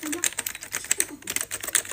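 Crisp clicking of a mechanical keyboard with white switches, quick irregular keystrokes close up, alone for about two seconds.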